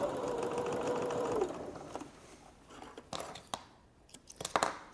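A sewing machine stitches along quilt corners with a soft, steady whir for a moment, then stops, leaving faint handling clicks and rustles close by.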